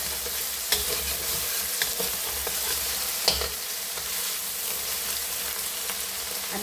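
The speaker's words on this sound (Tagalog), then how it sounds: "sa pagluluto ng itlog, gusto ko brown siya bago ko isalang yung kanin" Eggs for fried rice sizzling steadily in a pan, a close, continuous frying hiss with a few soft clicks of a utensil, no talk.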